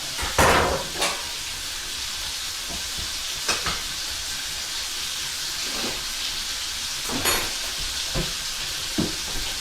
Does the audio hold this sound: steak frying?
yes